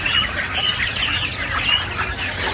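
Quails in a coop rushing onto freshly given feed, a dense, continuous chorus of small bird chirps and clucks with steady scratchy activity throughout.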